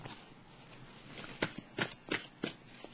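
Tarot cards being shuffled and drawn by hand, a soft papery riffle with several short sharp flicks close by and fairly quiet.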